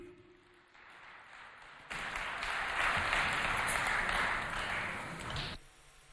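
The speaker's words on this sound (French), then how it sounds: "je demande qu'on applaudisse très chaleureusement pour l'accueillir" A concert audience applauds to welcome a singer onstage, with light scattered clapping swelling into a loud, dense wave of applause that holds for several seconds before cutting off.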